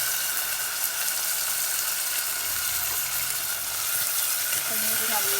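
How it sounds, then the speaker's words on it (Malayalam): Fenugreek seeds fry in hot oil with a steady, dense sizzle and fine crackling that continues without a break, close up and fairly loud. "അപ്പോൾ ഉരുവയൊക്കെ നല്ലോണം പൊട്ടിക്കും"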